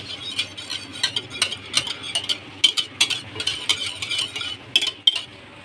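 A spoon stirs spices into yogurt in a bowl, making a steady run of light clinks and scrapes against the dish, close and fairly quiet.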